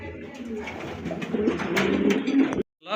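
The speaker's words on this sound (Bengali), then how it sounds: "প্রথমে এক জোড়া ড্যানিশ কবুতর দেখতে ভাই পাচ্ছেন" Danish pigeons, a pair of a rare breed, coo in low repeated murmurs close by, with faint rustling beneath, before a sudden brief drop to silence near the end.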